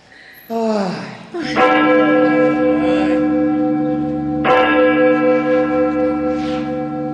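Bells of the Church of the Asunción ring out loud and near at 2 a.m., two deep resonant strikes that hum and sustain with long ringing overtones.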